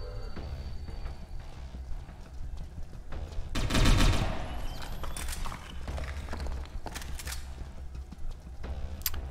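Gunfire in the video game Satellite Reign, a dense burst of rapid shots peaking briefly, followed by scattered sharp reports and clicks over a steady game background.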